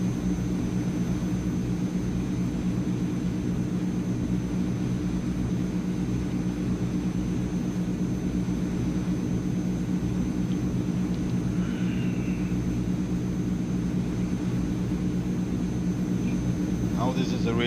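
Transall C160 cargo plane engines in Microsoft Flight Simulator drone in a steady, loud propeller rumble throughout, with a constant hum and someone talking over it.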